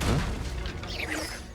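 Hogwarts Legacy blasting curse goes off in a deep booming explosion that hits hard at once and then rumbles and fades with some fiery crackle, loud and close.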